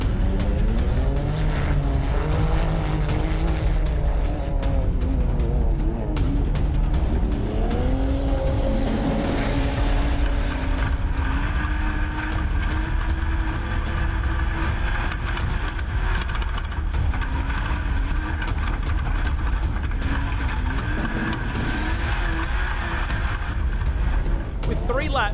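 Off-road race vehicles run the final race of the 2016 Australian Off-Road Championship, engines revving and rising in pitch through gear changes, loud and continuous under a talking commentator.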